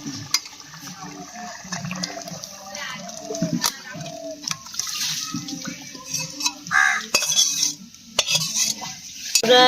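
Cooked nihari fish curry is poured out of a pan in a home kitchen, with a wet, clattering pan and utensil scrape against steady background noise.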